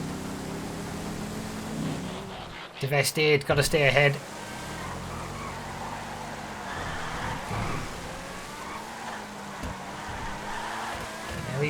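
Blade muscle car in GTA FiveM driving with a low, steady engine drone, broken by a brief burst of rough sound around a corner, while a player talks over it.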